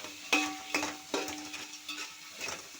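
Onion and green chillies frying and being stirred in a pan for chicken biryani, with a steady sizzle broken by several sharp scraping stir strokes, close and moderately loud, with no talking.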